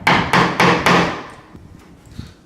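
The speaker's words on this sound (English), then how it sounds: "So now I'm going to remove the excess material. I am not an expert with a chisel, but I will try" Four evenly spaced, loud, close hammer blows drive a chisel into a wooden door to clear wood for a knob or lock bore, followed by fainter handling clatter.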